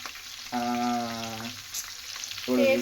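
Fish frying in hot oil gives a steady sizzle, with a loud wavering tonal sound rising over it twice in the clip.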